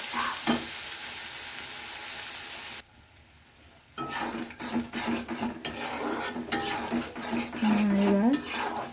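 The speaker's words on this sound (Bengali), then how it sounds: "দিয়ে এইভাবে নাড়তে হবে বারবার ধরে।" Spice masala for surma fish being stirred in a frying pan, repeated metal spoon scrapes and clanks over a sizzle, briefly dropping quiet, then busier stirring with no talking.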